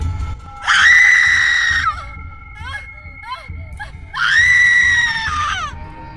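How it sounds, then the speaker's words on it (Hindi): A woman's ear-splitting scream comes over a phone line, two long piercing shrieks with a shorter, wavering tonal stretch between them, loud and close. "फोन की दूसरी ओर एक कान फाड़ देने वाली चीख गूंज उठी"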